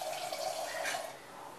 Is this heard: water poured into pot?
yes